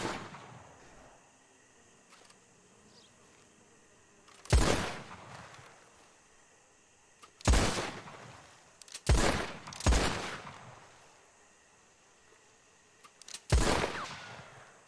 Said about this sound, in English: All I gotta do is aim the gun and shoot the tree.